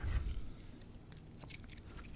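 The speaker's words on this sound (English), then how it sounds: "I have a spare set of apartment keys." A spare set of apartment keys jangles faintly in a quiet room, with soft scattered metallic clinks and one brighter jingle near the middle.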